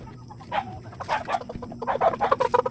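Chickens cluck and call in irregular short bursts close by before feeding, growing busier and louder toward the end.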